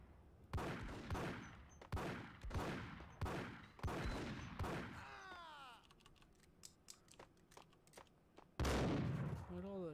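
Gunshots in the Max Payne video game: a rapid series of sharp, loud reports with ringing shell-casing tinkles after them, then scattered lighter clicks and one final heavy blast.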